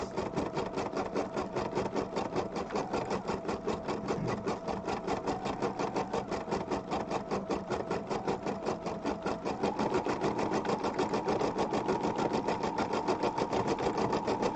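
A computerized embroidery machine stitches out a paw design on a Christmas ornament with a fast, steady mechanical chatter that keeps going throughout. It gets a touch louder and brighter partway through, and no one speaks.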